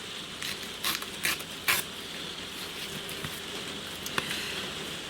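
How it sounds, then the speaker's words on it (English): A steady hiss of rain with a few louder bursts of patter, fairly soft and continuous throughout. "Rain's getting heavier"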